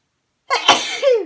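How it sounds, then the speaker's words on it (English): A single sharp sneeze erupts after a moment of silence, close and loud, trailing off into a short voiced exhale. "I want to sneeze"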